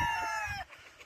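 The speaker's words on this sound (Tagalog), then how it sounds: "Ang dami talaga manok nila, Arnold." A chicken on a family poultry farm gives one loud drawn-out call that fades quickly, followed by quieter background sounds.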